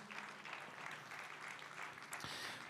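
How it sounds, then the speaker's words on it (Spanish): A church congregation claps in praise during a worship service, a sustained, even patter of many hands heard from some distance at low volume. "Fuerte ese aplauso de alabanza al Señor."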